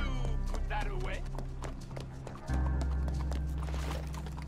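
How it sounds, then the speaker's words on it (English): Horse hooves clip-clopping at a quick gallop in the Western game Red Dead Online, with game music and loud overlapping talk from players throughout. "Uh-oh, my horse is getting in a hurry."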